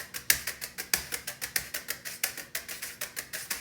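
Rapid paradiddle pattern on a drum played with wire brushes using tap-sweep strokes, a dense run of bright, swishy hits with occasional stronger accents, close-miked and fairly soft, no one talking.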